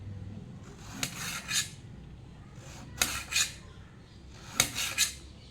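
A knife cuts snake gourd into rings on a board, giving three distinct pairs of crisp slicing and chopping sounds, close and clear, with short quiet gaps between them.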